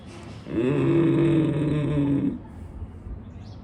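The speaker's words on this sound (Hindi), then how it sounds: "उज्जयी ब्रीथिंग मतलब ऐसा सांस खींचेंगे जो इस कंठ में जो है यहाँ पर घर्षण करे" One long, slow ujjayi breath is drawn in close by, with a hoarse, snore-like rasp from throat friction, lasting nearly two seconds, then quiet.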